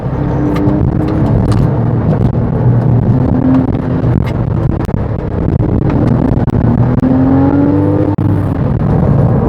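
A Porsche 997 with all-wheel drive climbs through a double curve on an incline, its engine droning steadily and rising in pitch as it pulls hard. The sound is loud and continuous, with tire and road noise underneath.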